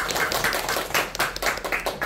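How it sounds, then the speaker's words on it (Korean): An audience at a book talk at Kyobo Bookstore in Gwanghwamun claps with quick, distinct, close hand claps in a brisk, uneven rhythm for a couple of seconds. "오늘 현장에 계신 분들 박수 아마 평소보다 3, 4배로 더 쳐주실 거라고 생각을 하고요"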